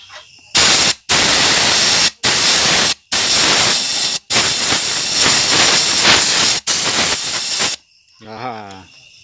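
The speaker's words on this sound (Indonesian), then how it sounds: "Kita semprot menggunakan udara bertekanan." Compressed air blasts into the oil filler of a motorcycle that was submerged in a canal or river. Several loud, broad hissing bursts of a second or so each come in close succession, separated by brief gaps, and a short warbling tone follows at the end.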